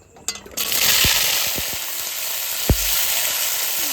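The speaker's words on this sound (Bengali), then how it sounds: "গাজর আর বিনসটা আগে ভেজে নেব" Carrots and beans frying in oil in a pan, a loud steady sizzle with a few clunks of a utensil against the pan, heard close up.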